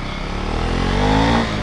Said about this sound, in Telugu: చిన్న యాక్సలరేషన్ ఇద్దాం ఇక్కడ